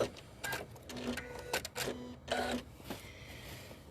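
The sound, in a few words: machine making noises while working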